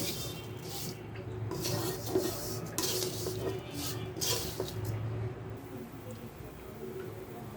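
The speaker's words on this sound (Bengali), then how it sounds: "আস্তে আস্তে নাড়তে থাকলে দেখবেন চিনিগুলো গলে সেমাইয়ের সঙ্গে মিশে যাচ্ছে" Vermicelli and sugar are stirred slowly in a frying pan, giving a faint, steady scraping and rustling that runs for several seconds before fading to quiet.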